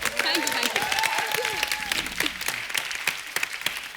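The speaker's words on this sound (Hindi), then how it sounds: "जोरदार तालियां इनके लिए." Sustained applause from a TV comedy show studio audience, steady clapping throughout with a voice speaking over the start.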